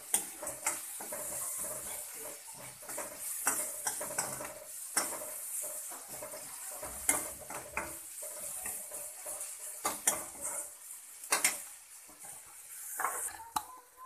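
Curry leaves frying in a pan while being stirred: a continuous close sizzle broken by repeated scraping and clinking of a utensil against the metal pan, irregular strokes throughout.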